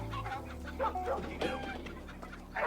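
Chickens cluck in short, scattered bursts at close range, fairly faint, with a low hum underneath and no voices.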